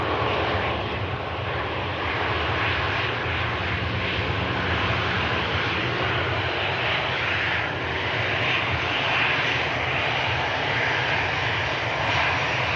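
A steady, loud aircraft engine roar at Manchester Airport holds evenly throughout, a continuous broadband drone with no talking over it.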